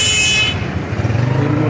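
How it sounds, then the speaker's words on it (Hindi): Busy street traffic at a crowded Sunday bird market in Badami Bagh, where aseel roosters and hens are sold, with a loud car horn blaring for the first half second before dense engine rumble and crowd noise take over. "traffic jam"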